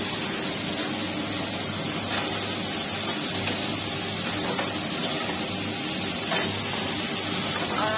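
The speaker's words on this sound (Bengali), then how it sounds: "আর আলু ফুলকপি রসা করছি" A potato and cauliflower curry cooks in a pan at home, giving off a loud, continuous sizzling hiss that holds steady with no voices.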